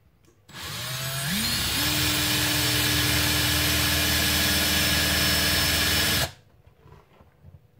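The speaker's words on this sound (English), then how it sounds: "it's drilling in nice and quick now" An electric drill bores into a brass breech for a Nerf Retaliator, spinning up with a rising whine into a loud, steady high-pitched drone that holds for several seconds before cutting off abruptly.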